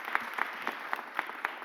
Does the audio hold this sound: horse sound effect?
no